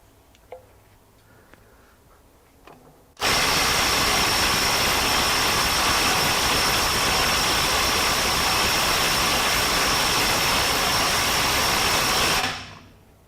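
A RIDGID R86012 mid-torque impact wrench on its 700 foot-pound setting starts after a few quiet seconds. It then hammers loud and steady at close range for about nine seconds before stopping abruptly.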